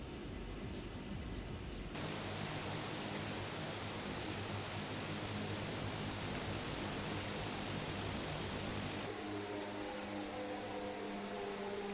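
Twin Otter turboprop engine idling steadily in Microsoft Flight Simulator 2020, a continuous loud droning hum that shifts in tone partway through as the props are feathered, with no talking.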